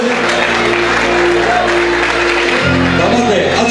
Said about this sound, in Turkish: Kuvvetli bir alkış gelsin.